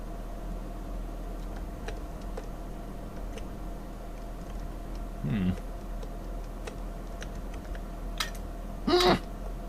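Computer keyboard and mouse clicks at a desk, sparse light taps and clicks scattered over a faint steady hum, with a couple of louder thuds and a brief voice sound near the end.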